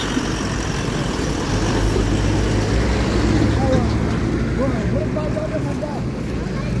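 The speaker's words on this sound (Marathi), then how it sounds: "गाड्या पुढे आल्या गाड्या पुढं आल्या का" Steady low rumble of cars and trucks passing on a road, continuous and fairly loud throughout, with a few faint higher chirps near the end.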